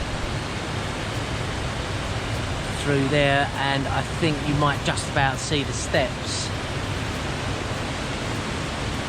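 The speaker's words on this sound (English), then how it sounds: "And then the main waterfall is through that gap." Steady roaring rush of a waterfall on a salmon river in Scotland, with water spilling through a gap by a man-made weir, a continuous broadband wash heard close and loud while someone talks over it.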